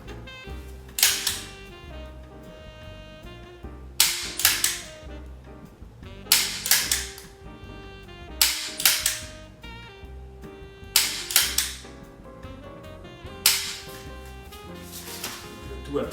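Gunshots from a loaded magazine ring out in evenly spaced sharp bursts, each with a short echoing tail, about seven shots over sixteen seconds at moderate distance with a faint low hum between them.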